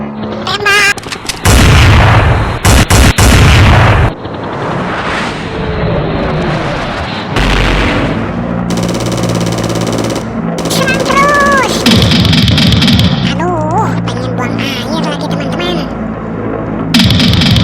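Loud, dense gunfire and heavy booming bomb explosions in an aerial-combat fighter plane video game, with rapid machine-gun bursts and sustained rumbling blasts layered with game effects throughout.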